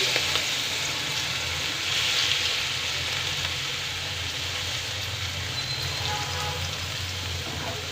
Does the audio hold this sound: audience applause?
no